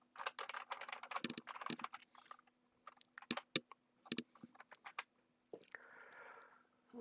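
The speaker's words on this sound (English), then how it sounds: "and I can't type today." Irregular, quick clicks of typing on a computer keyboard while editing Google Slides, with quiet bursts of keystrokes and short pauses in between. The sound is faint and close, with no talk.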